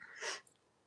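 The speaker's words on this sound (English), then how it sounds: "I guess I could have sneezed a little quieter." A single loud, close sneeze bursts out sharply and fades within a fraction of a second, followed by quiet room tone.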